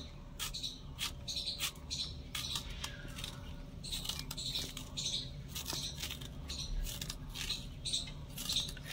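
A knife slices a piece of mango through the middle for pickle, making soft repeated cutting clicks and scrapes at close range, with no talk.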